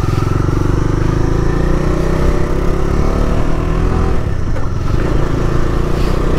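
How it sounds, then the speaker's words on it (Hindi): A Bajaj Dominar 250 motorcycle engine drones loudly and steadily while being ridden on city streets in Gangtok, Sikkim, a constant close-up hum with slight shifts in pitch. "फाइनली अपन चला रहे हैं डोमिनार 250।"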